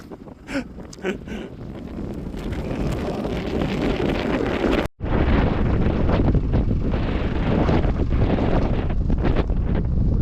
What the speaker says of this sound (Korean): 여기 좋은데 바람이 너무 불어서 여기 안 될 것 같아